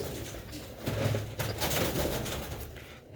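A pigeon coos on a rooftop loft in Sialkot, a few soft, low throaty calls rising and falling over about three seconds against mild background noise.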